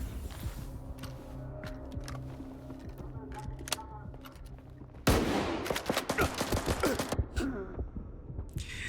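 Shotgun blasts in S.T.A.L.K.E.R. 2: Heart of Chornobyl, a run of loud, sharp shots in quick succession after a quieter stretch of ambient hum and scattered sounds.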